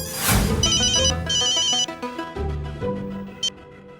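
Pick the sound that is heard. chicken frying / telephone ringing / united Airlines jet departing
telephone ringing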